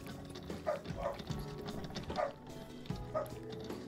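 A dog in Builder Simulator barks in a short series of sharp, moderately loud woofs spaced about a second apart, over a low background hum.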